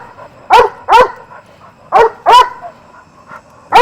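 A guard dog in training barks in sharp, loud bursts, mostly in pairs separated by short pauses, close by with only faint background noise between barks.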